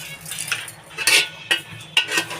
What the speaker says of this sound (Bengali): এবার ভালো করে একটু নাড়িয়ে দেবো।